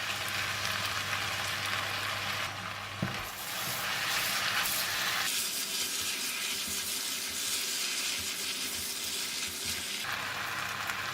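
Tomato, noodles and Tom Yum paste sizzle in a pan for fried kuey teow, a steady, loud hiss of frying that shifts in texture partway through without pausing.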